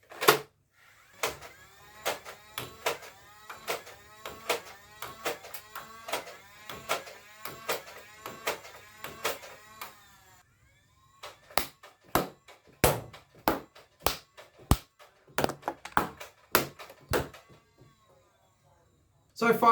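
A Nerf Elite 2.0 Stormcharge blaster fires Econ waffle head darts in a rapid run of sharp, loud cracks, each followed by a motor whir, then a second burst of slower separate shots before it goes quiet.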